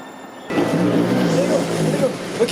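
Steady low rumble of a metro train running on rails fills the carriage and starts abruptly, with people talking over it throughout.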